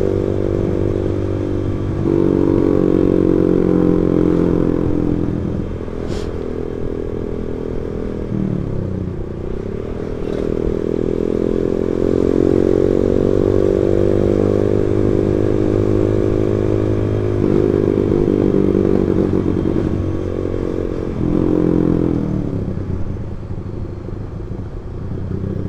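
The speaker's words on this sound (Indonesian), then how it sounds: "Vespa" A Vespa scooter riding a village road toward Kopeng, its small engine droning steadily close by, with revs rising and falling through gear changes.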